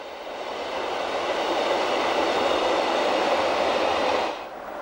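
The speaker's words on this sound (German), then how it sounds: "Nach Davos rollt der Heideland-Express durch das Tal der Landwasser in Richtung Filisur" A Rhaetian Railway Bernina Express train rolls along its track through a valley, a steady broad rumble that swells in, holds evenly for several seconds and then drops off abruptly.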